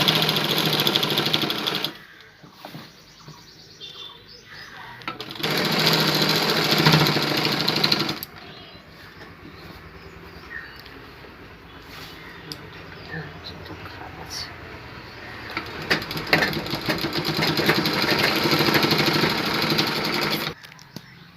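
A sewing machine stitches a waistband onto a garment in three loud, rapid whirring bursts. The quieter gaps between them hold a voice speaking.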